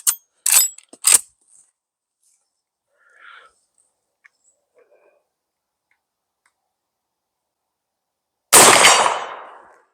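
Hunting rifle gunshot fired from a tripod during a hunt, a single loud blast with a trailing echo near the end, preceded by a few sharp clicks and long quiet.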